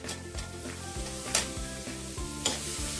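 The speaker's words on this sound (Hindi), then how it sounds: "अब मैं इसमें डालूंगी गाजर" Onions and carrots sauté in a pan, a steady soft sizzle with a spatula stirring and scraping in regular strokes and a few sharper clinks, close and unvoiced.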